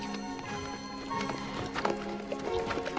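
Horse hooves clip-clop steadily through a riding lesson, set against a busy background of music and ambient sound, with a few louder hoof strikes standing out.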